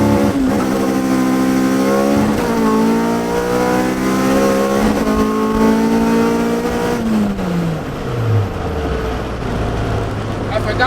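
Loud car engine revving hard through a launch, pitch sweeping up and dropping at each power shift, then falling off as the tyres spin, with extra air in the tyre and the engine held near throughout.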